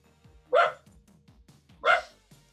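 Excited dogs bark twice, loud and close, each bark a sharp burst about a second apart, with quieter low sounds in between.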